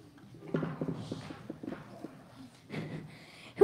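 Donkey hooves clip-clopping in an even walking rhythm at close range, a run of sharp knocks that pauses and then resumes, followed by a brief louder noise at the end.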